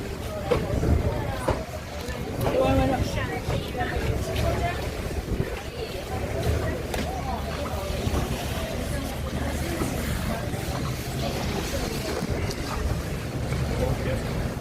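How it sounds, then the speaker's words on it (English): A motor boat runs behind a ferry off Koh Larn Island, Thailand, its engine a steady drone beneath wind buffeting the microphone and nearby voices talking. "Oh, the boat behind us."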